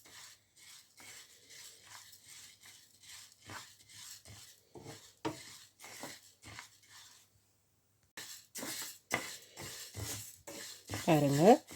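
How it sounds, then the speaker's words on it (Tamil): Pearl millet roasting in a pan on low heat, a spoon scraping and stirring in quick rhythmic strokes with a short pause, faint and close, as someone talks over it. "நான் இப்படி லோ ஹீட்டாக தான் இதை வறுத்து எடுக்க போகிறேன்."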